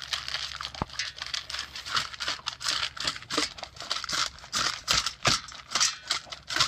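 A dog tearing into a treat toy fills the space with continuous close crinkling, rustling and ripping, broken by sharp snaps and scratchy bursts in an uneven rhythm.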